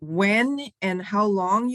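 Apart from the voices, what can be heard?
No everyday noises stand out.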